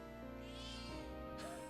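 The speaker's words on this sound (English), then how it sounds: "Kitty! Hi, Kitty" A cat meows in a video game, a drawn-out mewing cry heard faintly within a steady bed of music and background tone, with no talking over it.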